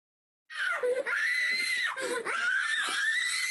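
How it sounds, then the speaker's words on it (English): A girl with severe autism screams and shouts in a sustained, loud, high-pitched cry during a tantrum of head-banging, broken by brief gasping pauses, with no other voices. "This is a girl continuously banging her head and shouting."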